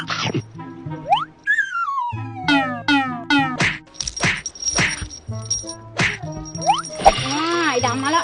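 Several cats meow repeatedly at a cat teaser wand, some with rising, drawn-out calls, close by. A light jingle of the toy and someone talking are heard under them.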